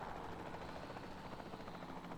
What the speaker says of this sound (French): je veux voir comment ils attaquent l'hélico